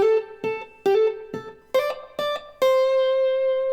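A plucked guitar riff of seven notes, pedaling a low A and stepping upward with quick slurred hammer-ons, ringing out clearly on the last note.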